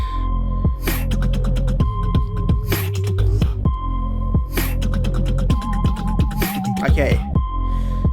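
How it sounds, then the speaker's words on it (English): A simple sonar-type pulsing sound from the Evadare 2 video game mod repeats in steady throbbing pings over a low hum, with a brief spoken word near the start. "simple kind of sonar type sound."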